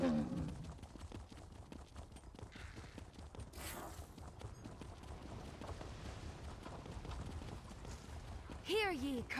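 Horse hooves clip-clop in a steady rhythm across the whole stretch in the online role-playing game ESO, close and continuous, with game sounds and voices mixed over them near the start and end.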